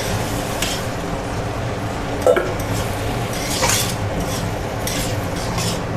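Boiled peas go into a pan of fried potatoes and are stirred, with a spatula scraping and clinking against the metal pan under a soft background sizzle, plus a couple of sharper knocks.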